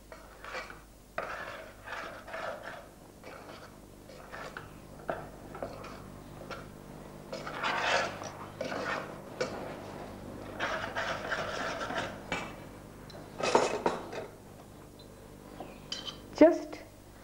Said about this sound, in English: on a very slow fire, you just go on stirring this